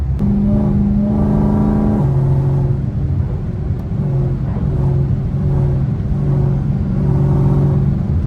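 A powerful Dodge Hellcat car engine rumbles loudly close by, its pitch stepping up and down as it revs repeatedly for several seconds.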